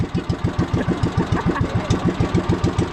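A nearby engine runs with a loud, rapid chugging beat made of even, regular pulses that continue throughout.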